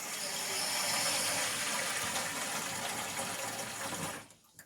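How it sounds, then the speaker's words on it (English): Water pours steadily from a tap into a cooking pot being filled for boiling ramen noodles, a continuous close gushing rush that runs for about four seconds and then cuts off abruptly, leaving quiet. "So we're going to go ahead and put a lot of water in here."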